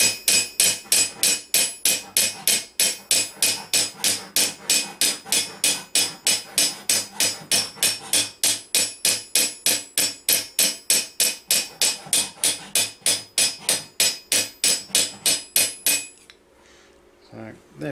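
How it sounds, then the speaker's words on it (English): Steady, rapid hammer blows ring out on medieval armour plate, dozens of sharp evenly spaced strikes with a bright clang, stopping abruptly near the end. "I've got a hammer right there, and I'm working down quite a bit of this material"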